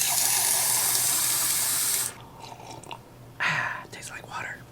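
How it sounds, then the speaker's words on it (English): Water runs from a tap in a vintage camper hooked to a city water inlet, a steady broad hiss for about two seconds that then cuts off, leaving quieter handling noises and a brief second gush of water. "Running water in a camper."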